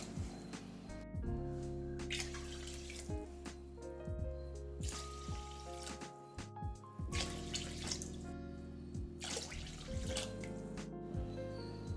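Water poured from a glass into a pot of rice and lentils while making ven pongal, a steady splashing and trickling stream that runs throughout, close and fairly full, with clinks and pauses between pours.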